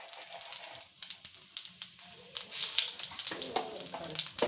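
Cumin seeds crackle and sizzle as they hit hot oil for restaurant-style daal, a quiet run of irregular pops and spits with a louder burst of frying partway through.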